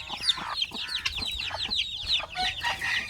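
Farm chickens cluck steadily in quick overlapping calls, close and fairly loud, with no talk over them.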